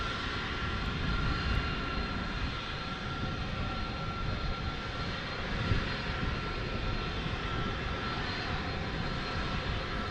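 A jet airliner departs Dallas Fort Worth International Airport with a loud, continuous engine roar that holds steady across the clip, heard from outside with no talking.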